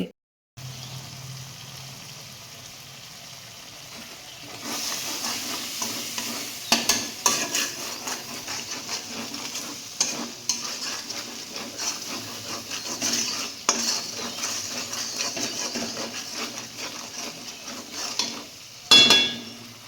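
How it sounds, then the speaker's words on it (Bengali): Spice paste is stir-fried in mustard oil with dried red chillies and cumin, a continuous sizzle under repeated scraping and clinking of a spatula against the pan, close and steady. "দিয়ে মশলাটা ভালো করে কষে নিলাম"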